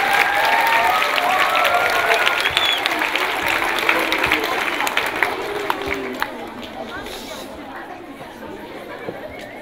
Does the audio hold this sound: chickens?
no